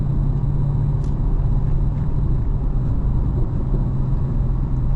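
Steady low engine rumble and road noise from a Vauxhall VXR8 GTS in its softest tour mode, driving down a valley mountain road on the A4059 through the Brecon area of Wales, constant and close throughout with no talk.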